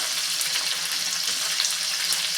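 Chopped onion frying with lentils in a pan for bread upma, a loud, dense, continuous sizzle close up with faint crackles and no voices.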